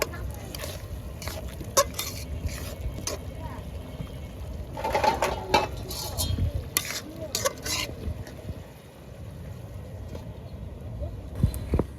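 Chili and coriander powder being stirred through a pot for Bihari chicken cooked in mustard oil, with continuous close scraping and a faint sizzle, plus a brief louder burst of clatter midway.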